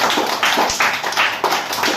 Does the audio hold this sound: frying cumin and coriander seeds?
no